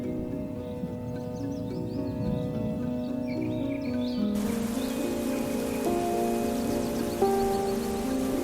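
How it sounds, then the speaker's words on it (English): Steady rain pours onto the Amazon rainforest canopy as a dense, even hiss, with faint bird chirps mixed in and the rainfall thickening partway through. "soon, the entire forest is immersed in the relentless sound of pouring rain"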